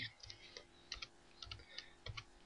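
Keys on a computer keyboard are tapped while a value is entered in AutoCAD 2020, about eight to ten crisp clicks in small irregular bursts, close and fairly quiet with no speech.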